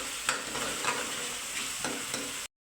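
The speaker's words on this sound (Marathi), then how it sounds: "फ्राय होत आहे" Onion and garlic paste frying in a pan, a steady close sizzle with a few soft stirring scrapes, continuous without speech before cutting off abruptly near the end.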